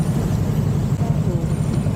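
Road traffic rumbles steadily along a street in San Juan, a dense low drone of passing cars and larger vehicles, with no single vehicle standing out.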